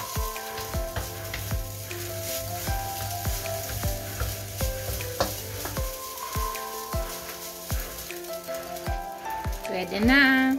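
Garlic fried rice sizzles and crackles in a pan with rhythmic scraping and stirring clatter, close up, while a musical tone plays in the background and a brief rising squeal comes at the end.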